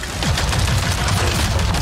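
Gunfire in the video game Avatar: Frontiers of Pandora, a loud, dense burst of rapid shots rattling continuously with no pause, alone without talk.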